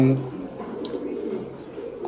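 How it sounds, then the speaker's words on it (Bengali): Pigeons of several breeds cooing softly in a large pigeon farm, a low murmuring coo over faint background noise, with a brief voice at the start. "আমার কাছে অনেক জাতের কবুতর আছে"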